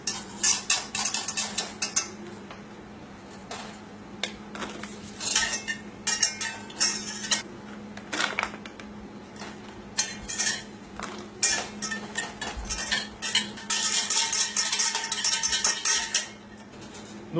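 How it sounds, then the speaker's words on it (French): A whisk or spoon stirs gelatin mass into hot milk for a three-chocolate mousse, giving repeated metallic clinks and scrapes against the pot or bowl in uneven bursts, close and fairly loud. "Nous allons donc verser et délayer les masses de gélatine dans le lait chaud."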